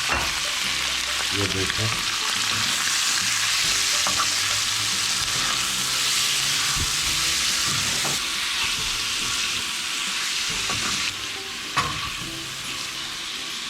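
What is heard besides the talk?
marinated liver (kaleji) frying on hot tawa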